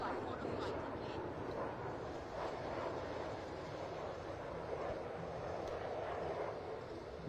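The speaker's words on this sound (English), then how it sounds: "The aircraft now carrying out a minimum radius turn." A Tejas fighter jet flies a minimum radius turn at an Indian Air Force air show, heard as a steady, broad, distant roar blended with wind and open-air crowd noise, holding an even loudness throughout.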